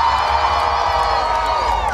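Opening night crowd at Queen Mary's Dark Harbor, cheering and whooping in a loud, sustained roar of many voices, steady throughout with no pauses.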